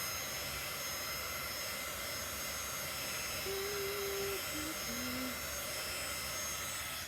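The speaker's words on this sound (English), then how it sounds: "I'm gonna use my little heat tool carefully." A small craft heat tool blows continuously over a chalk-painted board, a steady loud whooshing roar with a faint whine rising partway through.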